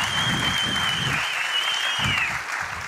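Dense crowd applause at a conference closing keynote, sustained clapping from many hands with a thin whistle-like tone running through it.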